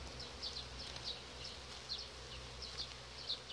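Soft, steady buzzing of honeybees in a hive over a winter queen colony in early spring, faint and close, with a low hum underneath and a few brief brighter buzzes.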